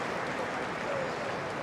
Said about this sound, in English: Listen to that applause.